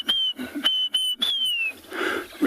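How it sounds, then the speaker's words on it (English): A Diederik cuckoo calls at sunrise in the African bush, repeating clear, rising-and-falling whistled notes several times in quick succession, fairly close and distinct. "A very distinct call that you can hear with the Didrok's cuckoos is"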